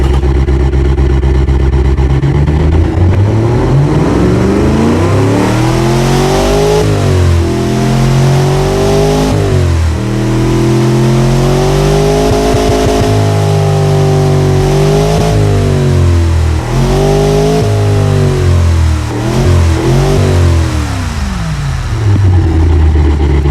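A modified 255 Windsor V8 in the Automation car game revs loudly and continuously, its pitch climbing and falling through repeated throttle sweeps with a dense, buzzing exhaust tone.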